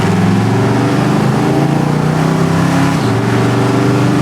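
A 1975 Corvette with a 4-speed idling after start-up, a loud, close, steady low rumble with a throbbing exhaust pulse and a slight dip in pitch near the end.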